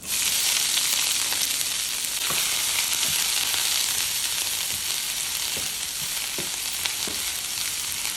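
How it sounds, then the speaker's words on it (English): Ingredients for Congolese madesu sizzle and crackle in hot oil in a pan, a steady close frying hiss with faint stirring clinks and no talk. "And then you then add in all your ingredients into the pan."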